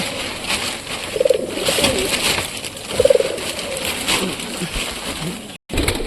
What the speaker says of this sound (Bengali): কবুতরের বাচ্চা বার করবো বার করে তোমাদেরকে দেখাবো